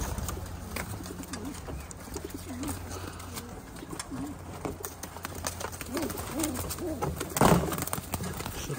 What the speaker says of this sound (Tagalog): Kalapati na sila.